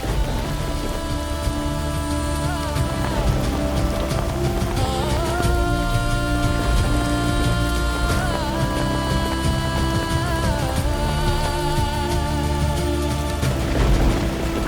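Rain falls steadily throughout the scene, with a low rumble like thunder underneath. Loud tonal music plays over it and largely masks it.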